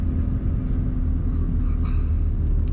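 A 2004 Dodge Ram 3500 Quad Cab Laramie SLT dually diesel truck drives on dry roads, its engine giving a steady, loud low rumble that holds evenly throughout with no talking.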